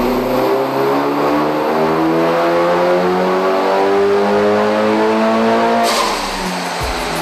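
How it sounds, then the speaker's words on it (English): Mitsubishi Lancer Evo, a light-tuned street car with aftermarket exhaust, induction and intercooler kit, revs loudly and steadily up through its range, the engine note climbing in pitch before a sharp lift-off near the end. "This Evo Lancer is fitted with an aftermarket exhaust, induction and intercooler kit and is typical of a light-tuned street car."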